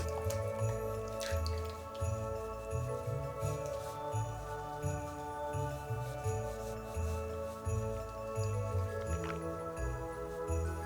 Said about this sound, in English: I'm going to stir that in until it's fully incorporated and the chocolate is nice and smooth.